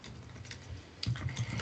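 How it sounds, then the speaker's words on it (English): Keys clatter on a computer keyboard in a short burst, a few quick soft taps followed by firmer, closer clicks, alone with no talk. "I'll just say it because I'm partway through typing it"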